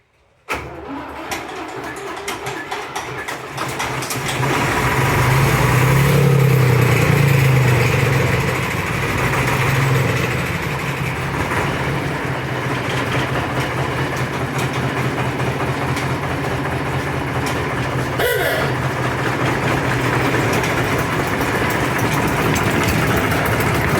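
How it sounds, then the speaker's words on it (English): Engine of a narrow-gauge railway locomotive running steadily at close range, a continuous low rumble that swells after a few seconds and holds for the rest of the stretch, with a brief clunk partway through. "we thought it'd be nice to bring out her favourite locomotive"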